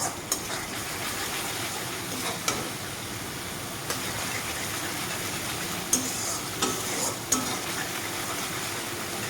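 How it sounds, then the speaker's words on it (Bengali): Masala being stir-fried in oil, a continuous dense sizzle with occasional sharp scrapes and taps of a spoon against the pan spaced every second or two, close and steady with no speech. "এইভাবে মশলাটাকে ভালোভাবে কষিয়ে নিয়ে নিতে হবে"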